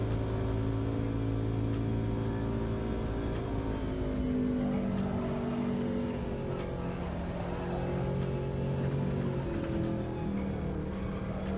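A steady car engine drones with shifting harmonic tones as it revs up and down, loud and continuous throughout with no talking.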